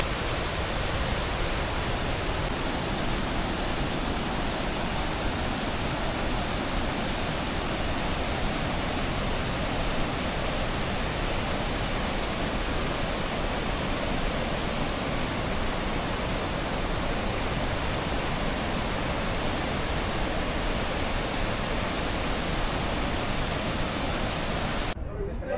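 Salto del Mondai waterfall in Paraguay roars as a loud, steady rush of falling water close by, a dense unbroken wash that fills the whole scene.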